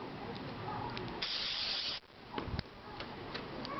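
A single close, steady hiss of carburetor cleaner sprayed onto the float bowl of a Kohler K161 7 hp carburetor from a Troy-Bilt tiller, lasting under a second, followed by light clicks and handling.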